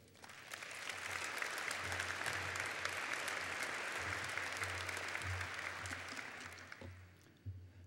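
An audience at a Nashville business breakfast applauds to welcome speaker Rick Dornbus, a full, steady wash of clapping that swells quickly, holds for several seconds, then tapers off near the end.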